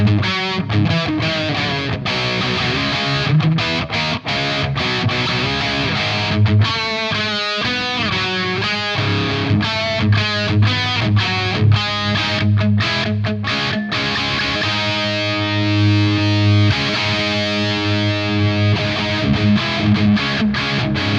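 Heavily distorted electric guitar through a KMISE US Dream high-gain pedal, loud and saturated, playing chords and riffs continuously with sustained crunchy tones and brief choppy breaks.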